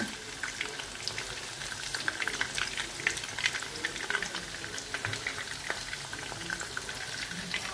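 Cauliflower pieces fry in a pan for a tajine, giving a steady, busy crackling sizzle with scattered sharp pops, close and continuous throughout with no talking.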